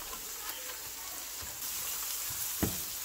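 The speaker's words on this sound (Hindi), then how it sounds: "मसाला देखें अच्छे से भुन गया है, तेल के जो बबल्स नज़र आ रहे हैं आपको" Tomato masala frying in oil for a chana dal and spinach dish gives a steady, faint bubbling sizzle with a couple of light clicks of a spoon, close and quiet.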